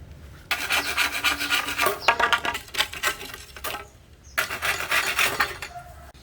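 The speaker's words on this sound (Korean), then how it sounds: "일단 대나무를 좀 잘라서 이런 형태로 만들어서 천정을 만들 거예요." Bamboo being cut by hand for a ceiling panel, a close, rasping back-and-forth sawing in two bursts separated by a brief pause, fairly loud with no voices.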